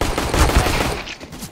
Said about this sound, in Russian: кто-то стреляет